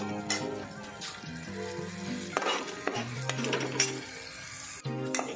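Masala for mixed vegetable bhaji fries in oil as a spoon stirs it, bringing steady sizzling, scraping and clinks against the pot, with a faint tonal hum running underneath.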